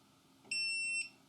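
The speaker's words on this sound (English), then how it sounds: "You've heard the beep" A single steady electronic beep from a Creality Falco laser engraver when its lid is lifted, high and tonal, lasting about half a second against a faint background hum.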